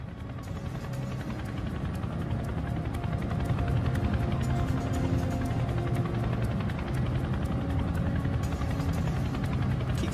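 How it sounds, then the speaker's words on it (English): Chinook twin-rotor helicopter in flight over Scottish airspace near the Mull of Kintyre, giving a steady, loud rotor thump and engine drone that holds level and slightly builds, with no voices. "The Chinook arrives in Scottish airspace"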